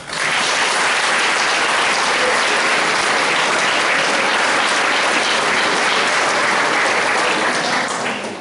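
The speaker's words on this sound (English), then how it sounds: "certainly deserves a round of applause" Loud, continuous audience applause at an interview event honouring a racehorse trainer and jockey, a thick, even roar of many clapping hands that stays steady for over eight seconds before easing slightly at the end.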